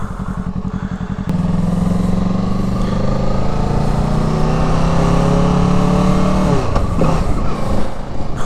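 Motorcycle riding along a road, a steady loud engine drone that climbs in pitch as it accelerates, then drops briefly with a gear shift before pulling again, heard from the rider's position.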